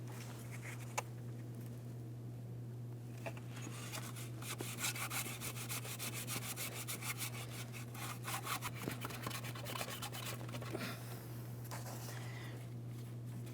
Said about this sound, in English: you can use a sanding block and some fine sandpaper